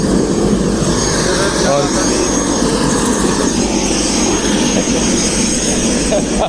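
A helicopter engine keeps droning loud and steady right after landing, a dense, constant roar filling the whole stretch, with a voice briefly heard under it.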